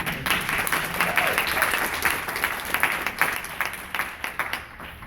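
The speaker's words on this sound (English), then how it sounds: "That's an applause moment right there." Crowd applause at a business event in Jacksonville, a burst of many hands clapping that swells and then thins into scattered claps, fairly close and without talk over it.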